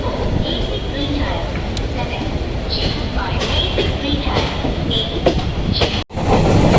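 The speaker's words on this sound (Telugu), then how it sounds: "ఇక్కడ నుంచి ట్రైన్ అయితే మళ్ళీ స్టార్ట్ అయింది" A train pulls out of Ernakulam City railway station in Kerala with a steady, loud rumble of wheels and scattered clacks and squeals. Faint voices may sit underneath, and a brief dropout comes near the end.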